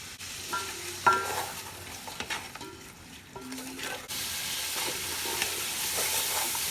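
Spices such as biryani masala, chaat masala, dry coriander and black pepper being roasted in a pan, with soft sizzling, intermittent spoon stirs and scrapes, then a steadier hiss, no talking.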